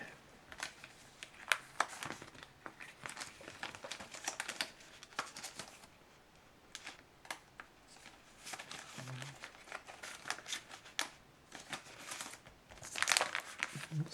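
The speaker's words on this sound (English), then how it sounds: "Lots of off-stage noises here as I shuffle around with the binder." A card binder holding trading cards gives quiet, close rustling, crinkling and shuffling, with scattered small clicks and page flaps that keep going throughout.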